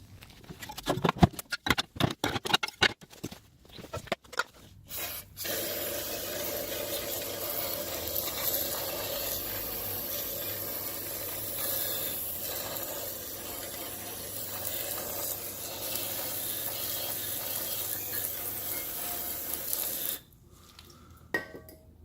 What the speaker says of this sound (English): spray a whole heap of degreaser and see if any runs out the back of the heater